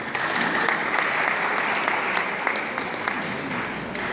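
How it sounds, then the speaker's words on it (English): Steady applause from an audience at a student congress fills the room for a speaker, dense and continuous with no voices over it. "A round of applause for our brother."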